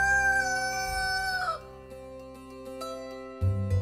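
A rooster crows once, a long drawn-out call that falls away at the end, followed by a few faint clucks over a steady tonal hum, with no one speaking.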